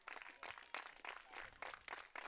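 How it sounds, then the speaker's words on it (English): Baseball fans at a Cape Cod League game between Hyannis and Bourne, on their feet slow clapping in a steady rhythmic beat, faint and distant crowd. "slow clapping"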